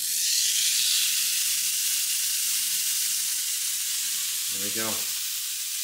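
A flat iron steak sizzles in beef tallow in a skillet, a steady broad frying hiss that runs the whole time, with a brief spoken remark near the end.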